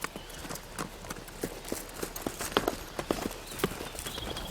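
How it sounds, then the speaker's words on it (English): Horses' hooves clip-clop steadily over rough mountain terrain, a close, irregular run of sharp knocks that continues throughout without voices. "these horses and their ability to negotiate this incredible terrain"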